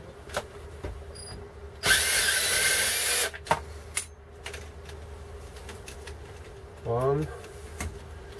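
Power tool spinning out screws on a Hilti TE905 breaker during a tool holder and chuck repair, a loud steady whir of about a second and a half, then a shorter rising burst later, with quiet clicks and handling noise between.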